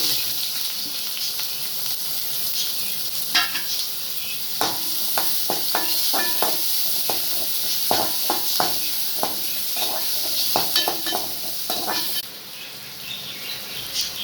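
Steady sizzling of dried anchovies frying in hot oil, a constant crackling hiss with scattered pops and spits, fairly close and moderate in volume.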